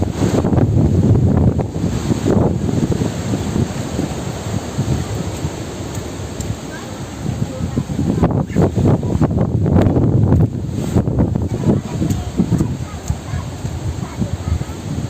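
Strong gusts of Typhoon Rolly roar and buffet the microphone outdoors among trees, surging loudly near the start and again midway with a constant low rumble.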